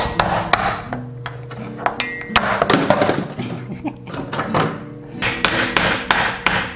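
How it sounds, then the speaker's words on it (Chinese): Green crab claws are pounded on a cutting board before cooking, a series of sharp, loud whacks in irregular bursts close up, with faint background noise and some tonal hum between hits. "然后这个钳子最好是拍一拍，得要更好入味。"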